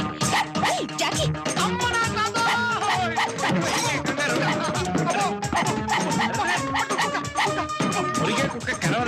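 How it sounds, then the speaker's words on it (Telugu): A dog barks and yelps in a busy scene, with repeated excited barks mixed under loud overlapping talk and shouting from several people. "అమ్మో, అమ్మో! కుక్క, కుక్క."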